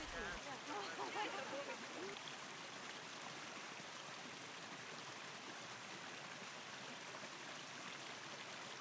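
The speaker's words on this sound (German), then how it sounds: "Den Fluss hört man ja immer." Steady rushing of flowing water, a soft continuous wash with no pauses, fairly quiet and even throughout.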